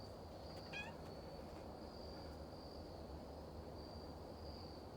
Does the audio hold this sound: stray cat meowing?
yes